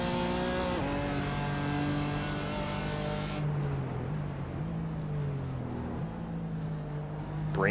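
BMW M4 GT3 race car engine in a racing video game at Sebring, a loud, sustained high-revving drone with pitch dips at gear changes and braking, heard alone.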